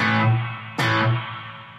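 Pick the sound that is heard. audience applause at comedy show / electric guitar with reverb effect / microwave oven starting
electric guitar with reverb effect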